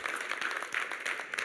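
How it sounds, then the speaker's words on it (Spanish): Church congregation applauding during a worship service, a dense, moderately distant patter of many hands clapping continuously without a break. "A Él, déles aplauso."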